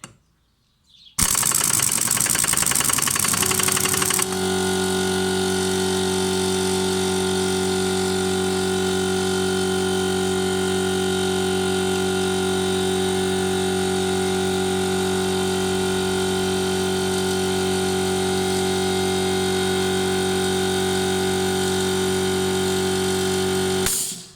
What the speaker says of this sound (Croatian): Pričekali smo da se kompresor ugasi.